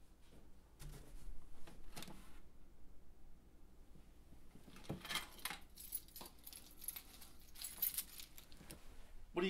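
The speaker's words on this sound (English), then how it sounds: "What do you got there? Keys? Looks like car keys." Set of car keys jangling close by in a quiet indoor room, bursts of metallic rattling and clinking recurring through the span, loudest near the middle and end.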